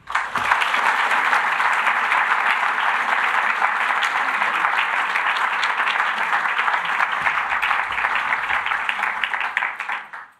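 An audience at a university law building naming ceremony gives a steady, full applause to welcome an executive vice president to the stage. It is dense and loud for about ten seconds, then tapers off quickly.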